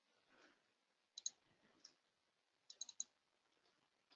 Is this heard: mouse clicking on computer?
yes